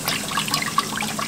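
Sugar and water are stirred together in a cooking pan, giving close, light liquid swishing and soft scraping splashes in irregular bursts, with no talking.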